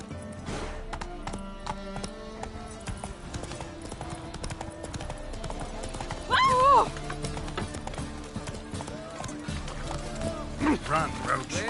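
Roach the horse gallops in The Witcher 3 on PS5 with a steady, fast clip-clop of hooves running under game music, while voices and a brief shout come through over it.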